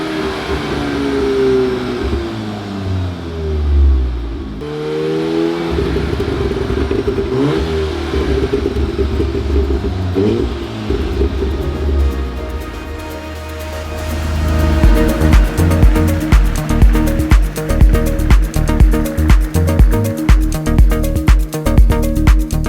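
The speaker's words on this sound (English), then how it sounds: "It's listed OEM plus sport mode crackle, just like they do intended from factory." Audi S3 8V with stage 2 ECU and TCU tuning revs hard in sport mode, the engine note rising and falling before a burst of rapid exhaust crackles and pops, loud and close.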